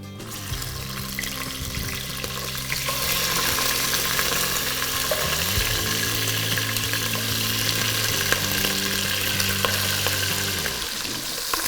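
Mutton hisses and sizzles as it fries in hot ghee with cumin and fennel for a Lucknow-style yakhni pulao, a steady close crackle that runs throughout over a low tonal hum.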